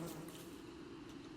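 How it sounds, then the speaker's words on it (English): Faint buzzing of bees in the survival video game Don't Starve, a low steady droning hum that carries softly through the whole moment. "Wow, don't scare me like that, stupid bees."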